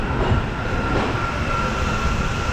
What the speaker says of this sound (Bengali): কলকাতা সাইরাং এক্সপ্রেস ছেড়ে দিল কলকাতা স্টেশন থেকে ঠিক 11টা বেজে 40 মিনিট